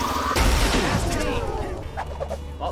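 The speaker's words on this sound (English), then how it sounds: "Well, they're throwing bombs at me." Bombs thrown and exploding in the video game Knockout City: a loud blast with a crashing burst and rumble near the start, followed by scattered smaller impacts and game sounds.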